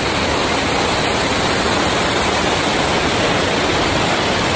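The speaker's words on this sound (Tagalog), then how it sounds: "Guys, so dito na tayo sa Tungtung Falls." Tungtung Falls in Bulacan pours in a dense, steady roar of rushing water, broadband and unbroken for the whole stretch, close and loud with no voices.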